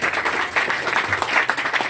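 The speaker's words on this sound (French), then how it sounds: "Maximum d'applaudissements pour le président du jury." An audience at a school debate claps loudly for the jury president, a dense, steady burst of applause that fills the short moment with no voices over it.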